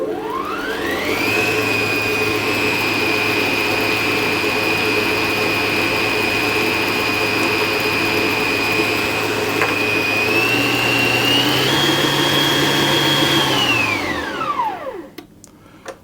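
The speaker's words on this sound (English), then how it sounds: "And as I start to whisk this, I want it to be nice and thick." An electric whisk whipping cream for a strawberry pavlova: a loud, steady, high motor whine running alone for about fourteen seconds, rising slightly in pitch near the end before it winds down and stops.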